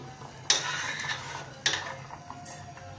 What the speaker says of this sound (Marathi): आता इथे भाताला उकळी आलेली आहे, म्हणजे पाण्याला, तर आपण थोडंसं हलवून घेऊया